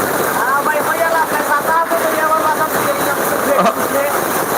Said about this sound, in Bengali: খুবই ঝড় বৃষ্টি হচ্ছে